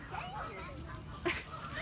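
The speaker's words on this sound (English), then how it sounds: "Those are Alaskan geese too." Alaskan geese at a zoo honking in short, squawky calls, a few close and loud bursts, with people talking nearby.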